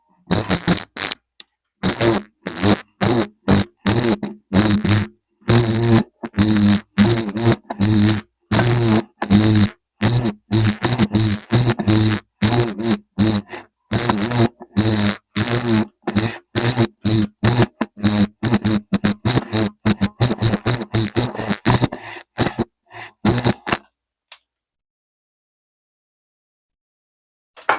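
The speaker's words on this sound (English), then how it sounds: "the noise that I don't like is coming from, I guess, the knee lift assembly, what lifts the foot up and down" A Sailrite Fabricator sewing machine running in rapid bursts, its knee lift assembly, the mechanism that raises and lowers the presser foot, adding a loud rattling, buzzing clatter to the stitching for about 24 seconds before stopping.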